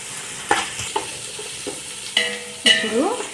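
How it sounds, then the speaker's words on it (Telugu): Ginger garlic paste frying in a pan, with a quiet background sizzle broken by a handful of sharp stirring scrapes and clinks, close up, and the hiss swelling louder toward the end. "ఇది వేగనిద్దాం బాగా పచ్చివాసన పోయేంత వరకు వేగనిద్దాము అల్లం వెల్లుల్లి పేస్ట్"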